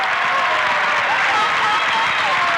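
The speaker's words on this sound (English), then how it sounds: "The Lawrence County High crowd standing, giving Kayla Goodwin, the senior homecoming queen, a standing ovation." Basketball crowd at a Lawrence County High girls' game standing to give the senior homecoming queen an ovation, a dense, steady wash of applause and cheering that fills the gym throughout.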